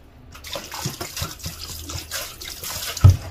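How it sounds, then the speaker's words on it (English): White vinegar poured over a cut-open raw chicken, a close, trickling and splashing pour with a heavier splash near the end. "So we pour some white vinegar."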